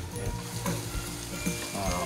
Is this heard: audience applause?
no